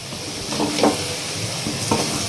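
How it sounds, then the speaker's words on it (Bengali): Three hundred grams of onions fry in oil for a Bengali fish-bone chorchori, giving a steady crackling sizzle with a few louder bursts and no voices. "তিনশো গ্রাম পেঁয়াজ ভাজার পরে কোনটুকানি হয়ে গেছে"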